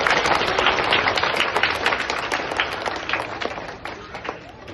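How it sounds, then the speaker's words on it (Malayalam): An audience at a magic and mentalism show claps in a dense, sustained round of applause that fills the room, loud at first and easing slightly toward the end. "ഒരു കൈയടി കൊടുത്തൻ"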